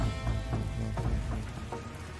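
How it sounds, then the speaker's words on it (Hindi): Steady rain pours on surfaces during a rainstorm, a dense continuous patter with scattered louder drops, close and uninterrupted. "बारिश में हम तो पूरी तरह से भीग गए।"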